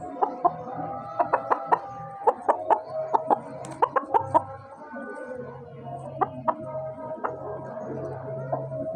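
Chickens clucking nearby, a series of sharp repeated clucks in bursts with quieter pauses, over faint background ambience.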